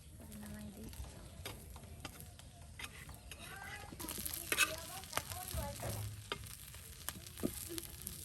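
Mashed potato with dried chilies fries in oil while being stirred, a steady low sizzle with scraping and tapping from the stirring, fairly quiet and close, with a voice speaking at times.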